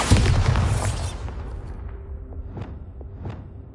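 A Bombarda spell explosion in the video game Hogwarts Legacy hits with a loud boom at the start, then decays into a fading rumble, followed by a couple of faint, sharp pops and crackles.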